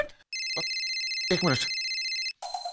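A telephone rings with an electronic ringtone, a steady repeating tone that plays through most of the moment, briefly interrupted as a person speaks over it.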